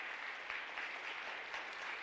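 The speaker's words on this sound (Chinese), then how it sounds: "我们用热情的掌声给他们欢迎一下，好不好？" A church congregation claps briefly to welcome candidates for baptism; the applause is soft and distant, a short even patter lasting about two seconds.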